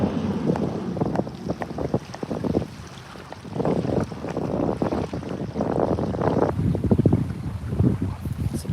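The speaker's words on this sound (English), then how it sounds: "Sabrina said the wind is picking up fast" Wind gusts buffet the microphone on a choppy lake, coming in rumbling bursts that rise and fall in strong waves for the whole stretch, with no talking.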